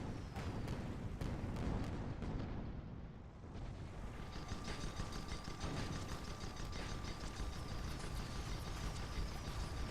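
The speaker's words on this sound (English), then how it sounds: "trying to force him away with a Gatling gun." Gatling gun firing in an airship battle video game, a dense mechanical rattle of rapid shots that runs without a break under loud engine and battle noise, with a short dip partway through.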